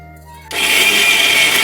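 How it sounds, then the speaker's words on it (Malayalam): A mixer grinder starts up suddenly after a low hum and runs steadily, a loud, dense, whirring grind of chutney with cumin and a little water that continues without pause. "ഇനി ഒന്ന് അരച്ചെടുക്കാം അത് ശകലം വെള്ളം ഒഴിച്ച് അരച്ചെടുക്കാം"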